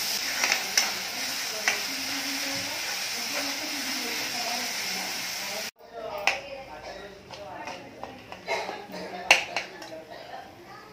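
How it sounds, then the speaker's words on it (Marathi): Onion and green chilli thecha fries in oil, a constant sizzle broken by sharp clicks of a spoon against the pan, with someone speaking throughout. "म्हणून तेल सुटेपर्यंत परतून घ्यायचं ते."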